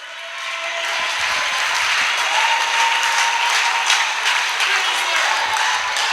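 A church congregation breaks into loud, sustained applause, dense clapping from many hands that fills the space and holds steady throughout.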